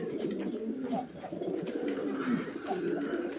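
White pigeons cooing steadily at close range, a continuous soft layered murmur of several birds with no talk over it.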